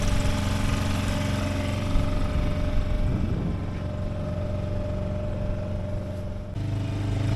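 A sailboat's outboard motor hums at a steady idle, a low continuous drone with no voices.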